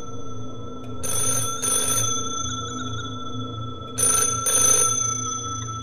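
A telephone rings in the horror video game Schizophrenia, two pairs of shrill electronic ring bursts separated by a pause, loud over a steady low droning ambience.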